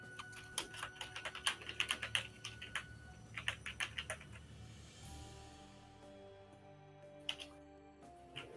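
Quick flurries of keys being struck on a keyboard, dense at first and then thinning into sparse taps, heard close over a faint steady hum during a tabletop role-playing game session.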